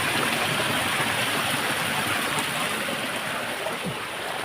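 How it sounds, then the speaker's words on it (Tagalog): Steady broadband rush of a flowing river, water running continuously close by with an even, unbroken wash and no clear voices. "Sa dumadaloy na tubig"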